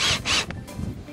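Two quick scraping rasps as a screw is pulled from the trim panel of an Artesian South Seas Spas 748L hot tub, followed by faint handling rustle.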